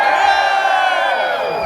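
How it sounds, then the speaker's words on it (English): Large outdoor crowd cheering and whooping together at the Riding of the Marches in Edinburgh, a loud sustained roar of many voices that fades slightly at the end. "All together, Edinburgh, give me a cheer."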